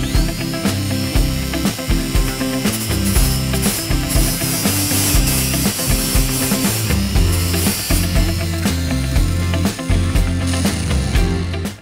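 A cordless angle grinder whines and grinds against metal, removing weld residue in a steady, noisy stretch, with its pitch rising and falling as it works.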